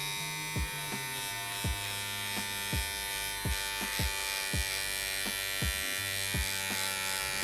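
Electric hair clippers fitted with a 1 guard buzz steadily while cutting hair, a constant nearby drone punctuated by short, regular bursts as the blade passes through hair.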